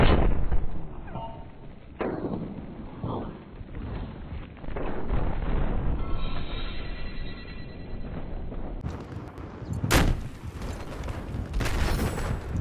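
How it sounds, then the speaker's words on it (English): RPG rocket launches and blasts in Battlefield 4 hit a tank. Heavy booming bursts and rumbling explosions repeat across a dense, loud battle din, with a sharp blast near the end. "I got RPGs, let me just get some shots on this guy"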